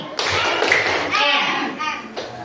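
Children in a classroom clap a rhythmic pattern on cue, bursts of group clapping and taps in a set sequence, mixed with a teacher's voice and children's chatter.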